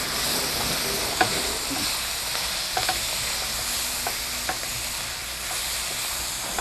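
Cabbage fries in a pan with a continuous bright sizzle, broken by a few light scraping clicks of a utensil stirring it, close up and without speech.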